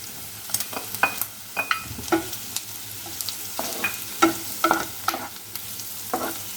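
Mushrooms cook in a pan with a soft background sizzle, punctuated by scattered clicks and scrapes of a utensil stirring them, close and intermittent, with no voices.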